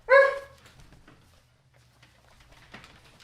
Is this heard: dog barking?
yes